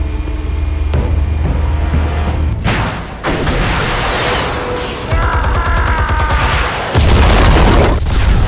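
Heavy booms and rumbling blasts erupt as armed explosives go off in Batman: The Telltale Series, loud, layered with debris crashes and a sustained roar that surges again near the end.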